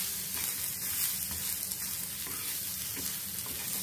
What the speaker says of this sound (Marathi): आपला कांद्याचा कच्चा वास जाईपर्यंत आपल्याला हा भाजून घ्यायचा